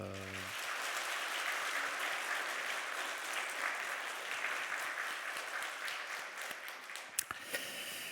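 A church congregation at a Sunday worship service applauds steadily for several seconds, a dense even wash of clapping that fades slightly before a sharp tap near the end.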